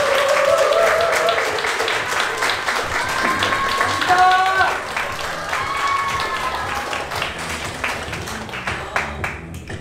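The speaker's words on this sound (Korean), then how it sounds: "큰 박수 부탁드려요" Audience applause for a team presenting at a startup demo day, loud at first and tapering off, with voices talking over the clapping.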